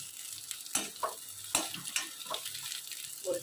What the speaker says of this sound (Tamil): வெங்காயம் நல்லா வதங்கிட்டு இப்போ பூண்டு பல் ஒரு 6-7 பூண்டு பல் போட்டுக்கோங்க